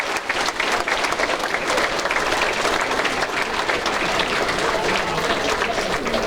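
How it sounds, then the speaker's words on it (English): An audience at a sports night event applauds, a dense, steady wash of many hands clapping throughout, loud and sustained with faint crowd murmur underneath. "Please give them a round of applause."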